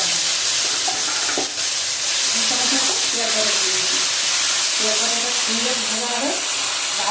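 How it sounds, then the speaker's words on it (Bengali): Onion paste sizzles in hot oil in a pan over a tempering of whole cumin and garam masala, a loud, steady fry with occasional stirring scrapes and faint tonal voice-like traces. "পেঁয়াজ বাটাটা একটু ভেজে নিয়েছি"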